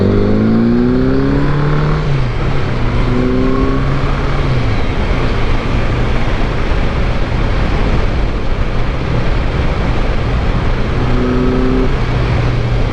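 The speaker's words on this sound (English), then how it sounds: "it sounds so good when you get on the gas on this bike" A motorcycle engine pulls hard under throttle, its pitch climbing and dropping through gear changes before settling into a steady, loud drone with wind rush, then rising again near the end.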